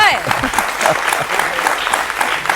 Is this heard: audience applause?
yes